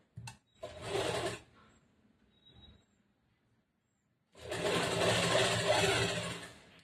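A sewing machine stitches blouse fabric in a quiet tailoring setting, running in a short burst, falling still, then running again in a longer steady whir, with no talk.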